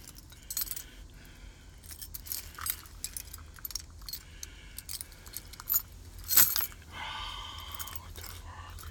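A small bunch of keys jangles and clinks in irregular bursts, close by, with a louder rattle near the end followed by a low steady rumble.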